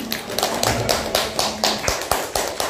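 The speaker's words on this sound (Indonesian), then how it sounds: "Beri tepuk tangan untuk Ibu Vivi" An audience at a kindergarten parents–teachers conference applauding, a rhythmic burst of clapping with regular strong claps, close by and alone without talk.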